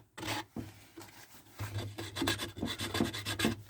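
Dirt and debris scraped from the bottom of a fragile box, a close, faint scratching and rasping with short repeated strokes growing busier toward the end.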